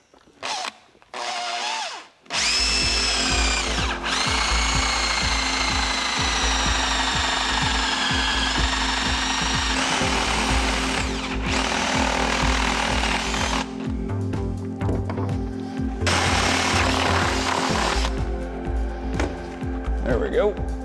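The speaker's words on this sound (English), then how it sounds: "drill some holes in the bottom part of my layout to start carrying some things through. So I'm just using a standard 3/4 inch spade bit" A power drill with a 3/4 inch spade bit bores holes through the wooden board of a model train layout, giving loud, grinding bursts with short pauses and pitch changes, while someone speaks between and over the drilling.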